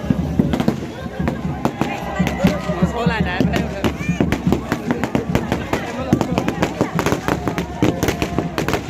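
Rapid, irregular firecracker bursts crackle close by, some in quick clusters, under steady crowd noise and voices, at a welcome celebration with a puja in Sivasagar, Assam.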